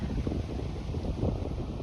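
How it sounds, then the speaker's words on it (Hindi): Cool night wind blows steadily outdoors, a continuous low rushing with microphone buffeting and no voices. "ठंडी ठंडी हवा चल रही है।"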